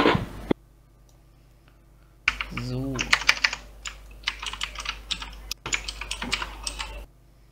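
Rapid clicky keystrokes on a computer keyboard come in irregular bursts at close range, briefly overlapping a man's speech in German, with a short pause midway.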